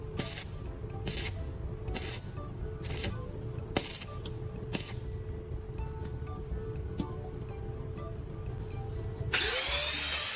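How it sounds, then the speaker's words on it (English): An angle grinder works in repeated short passes, grinding fresh welds on a metal frame's axle and bearing areas. Sharp hissing bursts sit over a steady motor hum, ending in a louder spray of grinding noise. "I finished the metal frame by grinding down all the fresh welds on the axle and the surrounding bearing areas"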